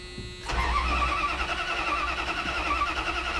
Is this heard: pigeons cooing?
no